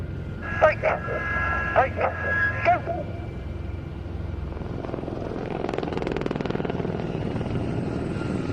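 Gazelle helicopters of an air show display team fly past, their rotor and engine noise steady and moderately loud through the clip, with commentary voices in the opening seconds.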